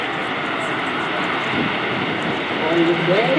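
Patrouille de France jets take off at a US naval air station air show, giving a broad, continuous engine roar that swells slightly toward the end, with a voice briefly heard over it.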